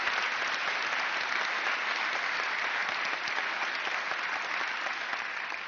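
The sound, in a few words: audience applause for library staff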